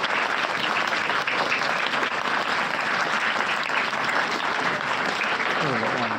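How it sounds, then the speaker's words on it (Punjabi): Children clap together to thank donors at a charity event honouring the martyrdom of the Sahibzadas, where milk and notebooks are given to needy kids; dense, steady applause fills the whole stretch with a hint of voices near the end. "ਸਾਰੇ ਬੱਚੇ ਤਾੜੀਆਂ ਮਾਰ ਕੇ ਇਹਨਾਂ ਦਾ ਧੰਨਵਾਦ ਕਰਦੇ"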